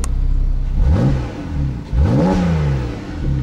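Two sharp revs from a Porsche 911 991.2 GTS with the exhaust valves open, each a quick rising bark that falls back to a throaty idle, loud and close.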